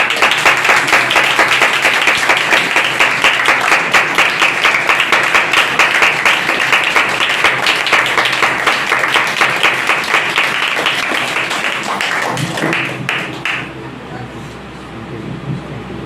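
Sunday church congregation clapping hands in praise, a dense, steady roll of many hands under voices, holding loud for about thirteen seconds before thinning out near the end.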